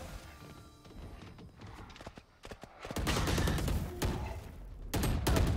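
Valorant gunfire in a match, with sharp bursts of shots and impacts growing louder and denser in the second half, rapid cracks mixed with quieter clatter.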